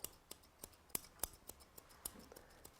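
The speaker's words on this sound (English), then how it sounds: "Move our scissors a little bit curve." Grooming scissors snip steadily through a Bichon Frise's coat, a run of about a dozen crisp, close metallic clicks at an even rhythm, quiet and alone with no talking.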